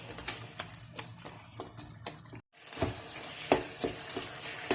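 Nashasta halwa stirred and roasted in a pan, with a steady sizzle and repeated scraping strokes of the spoon, a brief silent cut midway, then stirring and sizzling resume.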